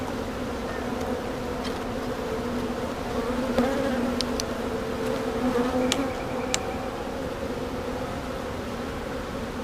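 Honey bees buzz steadily around an open frame lifted from a backyard hive, a close, continuous drone with a few individual bees flying past nearer and louder.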